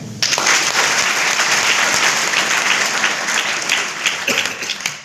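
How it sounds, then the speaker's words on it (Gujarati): An audience at a school comedy play bursts into dense clapping that starts abruptly and carries on loudly for several seconds before thinning out. "તાળી આપીએ."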